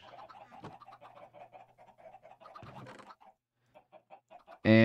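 Chickens on a Minecraft chicken farm give rapid, repetitive clucking calls in quick bursts, fairly faint and close, with a short pause before a louder sound cuts in at the very end.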